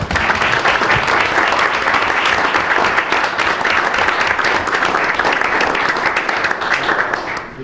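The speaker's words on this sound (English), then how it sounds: "Give these folks a round of applause" Audience at a city council meeting giving a sustained, loud round of applause, steady and uninterrupted for several seconds.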